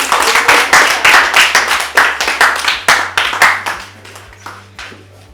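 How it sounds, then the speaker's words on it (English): A closing ceremony audience for a girls' empowerment platform breaks into steady applause, dense overlapping claps at close range that ebb and swell over several seconds. "Please a round of applause."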